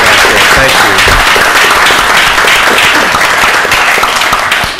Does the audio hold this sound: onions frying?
no